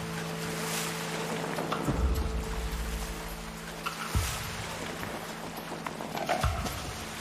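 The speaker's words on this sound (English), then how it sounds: "the bushmen drive the horses out of the hills and down to the flats" Wild horses driven down from alpine hills by bushmen, hooves clattering in loose bursts at a middle distance over a steady outdoor rumble.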